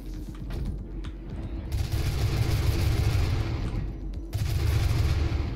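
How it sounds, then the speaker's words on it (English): Sustained bursts of gunfire from the 2016 DOOM video game, dense and loud, rattling continuously for several seconds with a brief dip midway before resuming. "There are something shooting at me."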